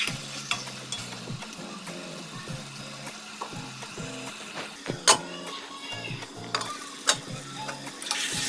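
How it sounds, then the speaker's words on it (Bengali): A spoon scrapes and stirs boiled potatoes and pointed gourd in a curry pan, giving soft irregular scraping and clinking with a few sharper knocks over a faint sizzle, close by and alone. "দেওয়ার পরে কিছুক্ষণ নেড়ে চেড়ে দেওয়ার পরে আমি এখন ঢেকে রাখবো"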